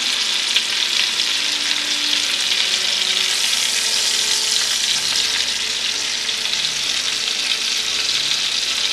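Food cooking in a pan over medium-high heat, a dense, even sizzle and crackle that runs steadily from start to finish, close and loud with no talking.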